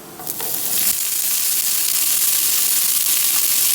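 Cooked beetroot hitting a pan on low flame bursts into a loud, close, continuous sizzle and hiss after a brief quieter start, holding steady with faint stirring and no speech.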